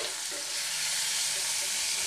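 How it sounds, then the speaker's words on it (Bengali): Bitter gourd and pumpkin pieces frying in a pan over a medium-high flame, a steady soft sizzle with a broad hiss that holds evenly throughout, no voices. "আমি একটু মিডিয়াম টু হাই ফ্লেমে দিয়ে এটাকে ভাজছি।"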